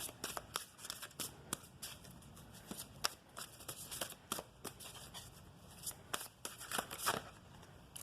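Tarot cards shuffled by hand, close and quiet, a rapid run of crisp riffling snaps and flicks repeating in bursts, with no talk.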